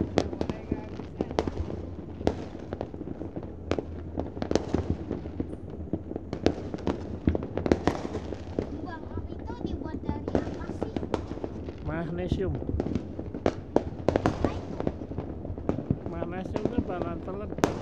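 Fireworks exploding over New Year 2022 celebrations, with dense, continuous crackling bursts and sharp pops at varied distances and people talking throughout.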